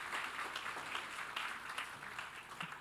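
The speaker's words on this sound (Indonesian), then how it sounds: "Boleh tepuk tangannya teman-teman?" Audience applause fills a room at an insurance leadership talk, a steady, dense patter of clapping hands that holds for the full few seconds without a break.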